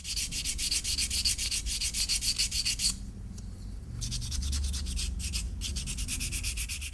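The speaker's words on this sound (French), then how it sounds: "je vais poncer mon bois ou ma corne" Rhythmic abrasive rubbing as a knife handle of wood or horn is sanded, steady back-and-forth strokes close up, pausing briefly midway before resuming, with no voices.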